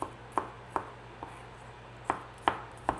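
A knife chops garlic on a cutting board in sharp, close taps, about eight irregularly spaced knocks over three seconds against a quiet low hum.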